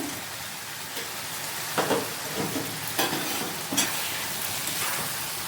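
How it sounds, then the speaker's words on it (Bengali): Chicken pieces with Kashmiri red chili powder fry in a pan for chicken biryani, giving a constant close sizzle broken by several scraping stirs at irregular intervals, with no talking. "এবার ঠিক এই সময় আমি কাশ্মীরি রেড চিলি পাউডার দিয়ে দেবো। ভালো করে এগুলোকে মিশিয়ে নেব।"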